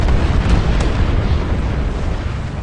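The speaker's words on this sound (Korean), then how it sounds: "수류탄으로 한번 노려볼까?" A heavy, rumbling blast from a grenade explosion in the sci-fi war game PlanetSide 2, loud and close, with a dense low roar that slowly fades over a couple of seconds.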